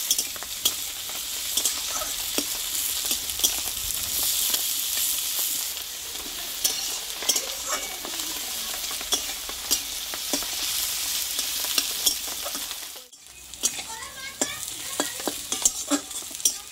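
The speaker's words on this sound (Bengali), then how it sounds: "দেখো বন্ধুরা পেঁয়াজটা কিন্তু এখানে ভালোভাবে ভেজে নিয়েছি।" Onions fry in a pan for a Bengali fish-head roe and ash gourd dish, a steady bright sizzle with frequent scraping stirs, a short pause near the end before stirring resumes.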